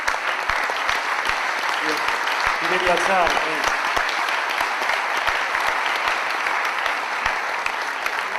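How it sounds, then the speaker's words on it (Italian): Audience applause for a Friulian explorer setting off for the magnetic North Pole, steady and fairly loud clapping throughout with a voice speaking briefly over it near the middle. "Applauso meritato"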